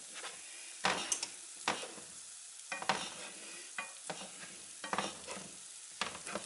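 Carrots and onions caramelising in a pan, a faint sizzle broken by intermittent scraping strokes of stirring, recurring every second or so, near and quiet.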